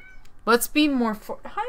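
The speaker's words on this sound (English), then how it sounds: "That was my cat." A house cat meows twice, loud and close, with drawn-out pitched cries, as a person speaks briefly before and between them.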